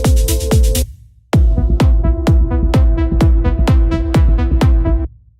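Melodic techno plays loud and alone, with punchy kick-driven stabs and a sustained synth chord; it cuts out briefly near the start, then resumes steadily.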